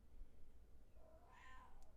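A pet cat gives a single faint, drawn-out meow indoors, rising and falling over a low room hum.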